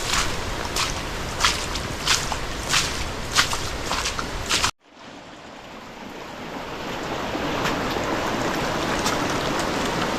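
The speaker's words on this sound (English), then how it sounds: "let's do some river walking" Splashing footsteps wading through a shallow river on a hike, a regular series of close watery steps over flowing water, then a sudden cut to a softer, steady rush of the stream.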